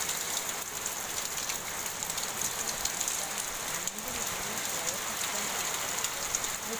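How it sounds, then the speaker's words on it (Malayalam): Heavy rain lashes down outside a house, with wind, as a steady, dense hiss of falling water that holds even throughout and is heard from indoors at moderate distance. "നല്ല കാറ്റിന്നു, നല്ല മഴയുണ്ട്."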